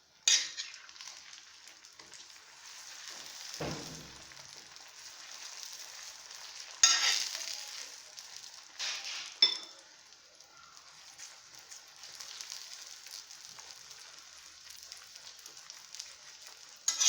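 Chapati cooking on an oiled pan gives a steady, soft sizzle across the whole stretch, with a few louder scraping or turning sounds in between. No one talks.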